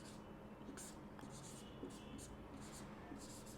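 Equations are written by hand with a pen or chalk, producing repeated short scratchy strokes in an irregular rhythm, close and faint over a low background hum.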